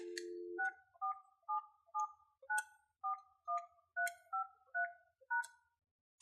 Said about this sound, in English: Now, dialing the extension 102.